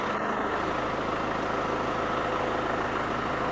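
A Mercedes-Benz engine with a 722.6 five-speed automatic transmission idles steadily and close by, a continuous low rumble running evenly from start to finish with no talk over it.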